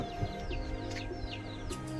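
Close clucking and short calls from chickens, with a rooster among them, repeating irregularly over a low steady background hum.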